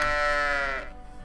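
A single sheep bleat from the board game Catan in digital form, a loud, wavering call lasting under a second that trails off into quiet, with no talk over it.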